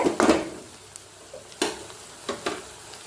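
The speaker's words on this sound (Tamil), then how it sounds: "நல்லா பொரியிடும், நல்லா வதங்கணும்" Garlic sautéing in a pan for garlic pickle sizzles steadily, with a few sharp scraping stirs standing out above it, close and without any voice.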